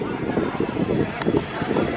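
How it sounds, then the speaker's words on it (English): Gusty wind rumbles and buffets the microphone in uneven pulses at Epcot during the Food & Wine Festival, with faint murmuring voices in the background. "It's a very windy day today."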